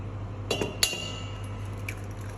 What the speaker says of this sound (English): I'm just going to crack 5 eggs into my bowl